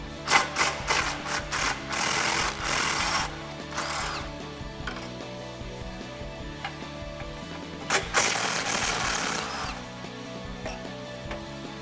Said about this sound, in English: grab our extension and go right over the rear sway bar and remove those 13 millimeter bolts